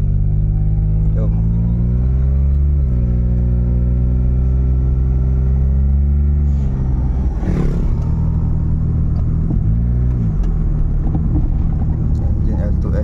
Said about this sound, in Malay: Sekarang kita nak test drive lah kereta ni.